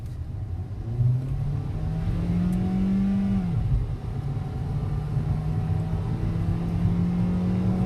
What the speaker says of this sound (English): I'm going to pretty much just put my foot on the gas